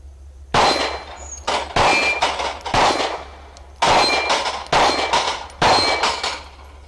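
A 9mm Smith & Wesson M&P Shield pistol with APEX Tactical trigger parts and a 7-round magazine fires at a steel plate rack, giving six loud, sharp reports at a steady pace, each followed by a ringing metallic clang.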